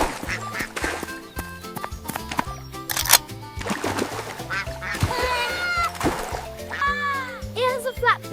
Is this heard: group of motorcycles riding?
no